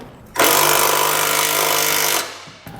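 A power tool with a socket snugs down flange nuts on a Curt trailer hitch receiver fitted to a 2019 Chevrolet, giving one loud, steady, close buzzing burst of about two seconds that stops abruptly.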